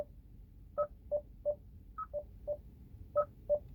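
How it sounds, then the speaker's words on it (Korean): Warning chime from a Hyundai Nexo hydrogen fuel cell car set to its loud volume level: a series of about ten short electronic beeps in two pitches, spaced roughly a third of a second apart, clear over a quiet cabin. "경고 음량, 경고 음량을 크게 할 거냐, 중간으로 할 거냐, 작게 할 거냐."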